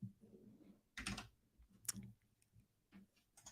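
A cat walks across a computer keyboard, producing a few scattered clicks and taps in uneven bursts, close and fairly quiet, with soft rustling between the keystrokes.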